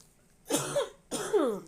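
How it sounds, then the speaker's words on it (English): Two distinct, dry coughs from a person with a cold, up close, spaced about half a second apart, with no talking. "I still have this little bit of dry cough"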